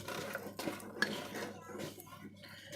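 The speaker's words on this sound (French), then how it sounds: "Je vais mettre des pruneaux et donc je vais mélanger" A spoon scrapes and clinks against a bowl as cake batter with prunes is mixed, a quiet run of irregular stirring knocks and clatters.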